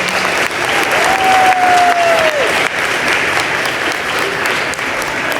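A crowd applauds 8th grade students at a school promotion ceremony, with loud steady clapping and a brief whistle-like tone near the start, continuing for several seconds.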